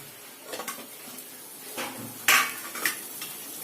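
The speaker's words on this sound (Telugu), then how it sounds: "ఇప్పుడు ఒక టూ మినిట్స్ మళ్ళీ మూత పెడతాను నేను" A lid clanks onto a pot of spicy Telugu drumstick curry: a sharp metallic clatter with lighter utensil clinks before it, set against a quiet kitchen background.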